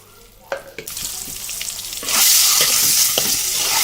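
Eggs fry in hot oil with a steady sizzle that swells louder partway through, broken by a few sharp clinks and scrapes of a utensil; no one speaks.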